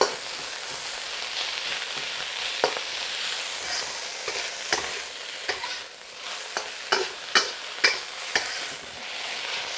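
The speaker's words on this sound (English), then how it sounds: "Believe it or not, you're already finished with your stir fry." Watercress and garlic stir-frying in a pan, a steady loud sizzle with sharper crackles and scraping stirs coming faster toward the end, no voices.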